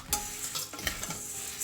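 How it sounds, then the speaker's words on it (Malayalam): Dried red chillies roast in a pan, giving a soft, quiet sizzle under repeated scraping stirs, with a few brief clinks from the utensil. "നമുക്കിനി ഉണക്കമുളക് ഇടാം"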